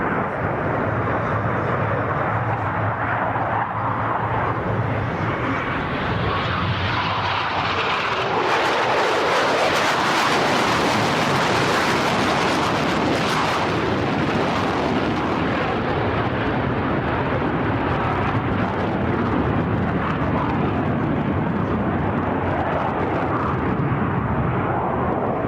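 Two Blue Angels jets cross over show center at an air show, pulling 6 g. The roar swells to a loud, sustained rush as they pass close overhead, then rumbles on as the sound fades.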